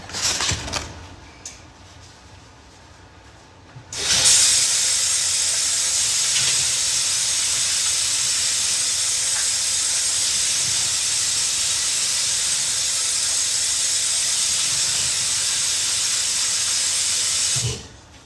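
Chopped vegetables rinsed under a running kitchen tap: a steady, close rushing hiss of water starts abruptly, holds evenly for about thirteen seconds, then cuts off, with quieter room noise before and after.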